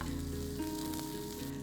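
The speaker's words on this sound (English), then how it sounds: "saute it for a while." Chopped onion frying in hot oil in a pan, a steady close crackling sizzle with faint stirring scrapes mixed in, even in loudness throughout and free of speech.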